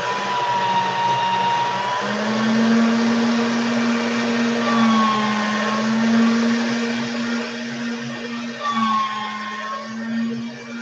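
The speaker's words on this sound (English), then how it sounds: "I'm going first to get with this again through the pasta machine" A hand-cranked pasta machine rolls polymer clay with a steady mechanical whir and a low droning hum, its pitch gliding slightly now and then, close and continuous.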